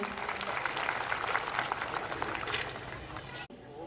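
Audience applause for BK Usha Didi ji at a Brahma Kumaris spiritual program: dense, sustained clapping from a crowd that fills the hall, then cuts off abruptly just before the end.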